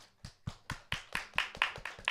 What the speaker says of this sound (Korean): 우리 나오실 때 하나님께 영광의 박수 올려드리겠습니다.